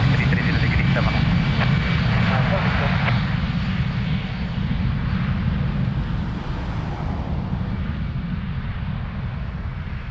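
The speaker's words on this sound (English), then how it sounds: "Airbus 319 rolling" An Airbus A319 jet rolls down the runway at Lisbon Airport, its engine roar loud and continuous, broad and steady throughout, slowly easing in intensity toward the end with no speech.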